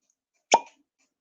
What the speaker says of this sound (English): It's not a deep pop, but nice and poppy.